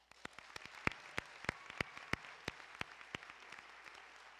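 Sparse, scattered applause at a MEDEX Anchorage Class 15 graduation ceremony in 2025, thanking the graduating students: a modest crowd clapping unevenly, individual sharp claps standing out against a quiet room, fairly distant and soft throughout.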